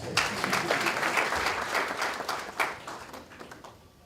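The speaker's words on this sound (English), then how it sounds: "If you don't clap, I'll clap for myself." A small crowd applauds at a university law event, scattered claps swelling briefly and then thinning out and fading.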